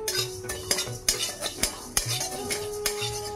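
A spoon stirring a spice mix for shukto in a metal pot, giving a series of close clinks and scrapes at irregular intervals, with a faint sizzle and a soft background hum, no talk.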